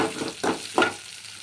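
Onions and curry leaves frying in oil after mustard seeds: short bursts of sizzling and stirring scrapes, three close pulses over about a second before fading to a faint hiss.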